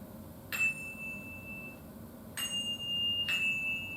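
Two handbells struck in turn: three bright, ringing strikes, each leaving a clear sustained tone that slowly fades, heard alone against a quiet room hum.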